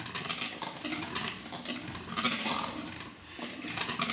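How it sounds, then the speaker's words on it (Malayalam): Sponge cake batter stirred in a bowl after vinegar is added, faint soft scraping and sloshing strokes repeating in a quiet, close rhythm. "1/2 ടീസ്പൂൺ വിനാഗിരി കൂടി ഒഴിച്ച് നന്നായിട്ട് ഇളക്കാം"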